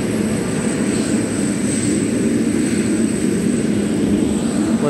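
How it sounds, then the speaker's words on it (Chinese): Engines of a China Airlines Boeing 747 at Taipei Taoyuan International Airport give a loud, steady roar that stays constant throughout. "我的华航波音747出现了。"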